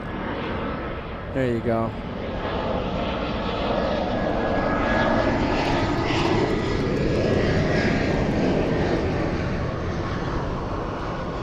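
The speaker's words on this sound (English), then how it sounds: "China Airlines' first Disney-themed 777 heading back home." China Airlines' Disney-themed Boeing 777 in Zootopia livery departs LAX, its jet engines building to a loud, sustained roar. Someone speaks briefly near the start before the engine noise dominates.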